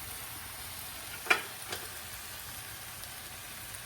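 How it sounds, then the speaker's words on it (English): Balsamic glaze cooks down in a pan with shrimp and vegetables, giving a soft, even sizzle with a couple of light taps partway through. "Let's add some of the balsamic glaze to cook it down for a little bit."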